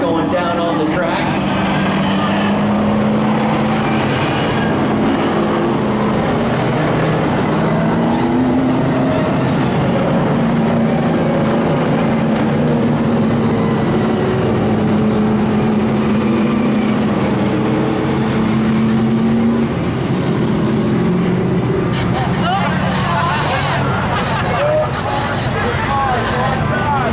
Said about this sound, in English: 25 cars going down on the track.